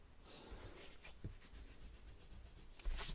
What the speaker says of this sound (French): on va juste gommer